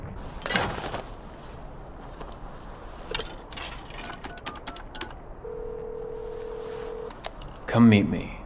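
A telephone is dialed in the Devil May Cry 5 video game: a run of quick button presses and clicks, then a steady dial tone, and a louder clatter at the end.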